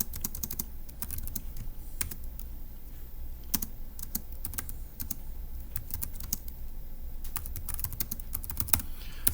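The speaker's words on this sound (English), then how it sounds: "So let me go ahead and type that up in section B." Steady typing on a computer keyboard, quick close key clicks in uneven bursts with brief pauses, over a faint low background hum.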